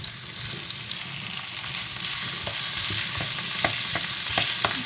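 Prawns frying in a pan with chili and shrimp paste, a loud continuous sizzle with occasional scrapes and stirring clicks, close up and without talk.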